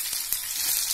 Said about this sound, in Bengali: এর মধ্যে আলুটা দিয়ে দিচ্ছি।